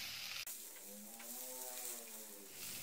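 Broccoli leaves and mixed vegetables stir-frying in a hot pan, an Indian-style sauté with a steady close sizzle and light stirring scrapes running throughout.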